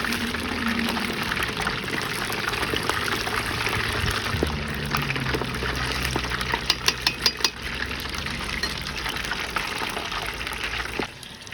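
Chicken wings fry in hot oil in a tall pot, giving a dense, steady bubbling and crackling roar close up, with a few metallic clinks of stirring partway through.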